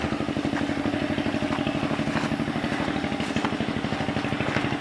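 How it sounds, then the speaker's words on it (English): Close, steady chugging of a small tractor engine working a rice field being prepared for planting, running at an even idle-like rhythm throughout with no talk over it. "engine you hear in the background is what we're going to go check out"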